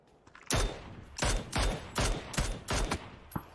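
Gunfire from the battle royale PUBG during a competitive esports match at the Army Factory area: loud rapid bursts and volleys follow one another in quick succession, with a lone shot trailing at the end.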